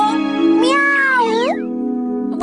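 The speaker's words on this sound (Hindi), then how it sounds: "अरे ये तो वही बिल्ली है।" A cartoon cat meows in a Hindi-dubbed Doraemon episode, with drawn-out, bending meows over a steady musical drone and a brief sound at the end.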